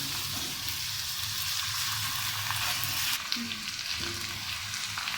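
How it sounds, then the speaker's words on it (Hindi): Garlic and ginger fry in a pan with a steady, close sizzle that continues for several seconds, with faint stirring sounds underneath. "दो मिनट तकरीबन हमने लहसुन अदरक डालकर भुना है इसको"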